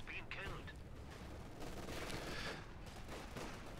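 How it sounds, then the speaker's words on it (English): Mortar and small-arms fire on a Company of Heroes 2 battlefield, a faint, busy mix of thuds, crackling gunfire and explosions with a brief high whistle early on, held at a steady low level. "There goes that mortar."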